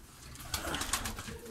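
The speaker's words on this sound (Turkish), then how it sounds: "Orada bak yine Sivas kumrusu var." Sivas doves inside a coop give soft, low, repeated coos against a faint background of rustling.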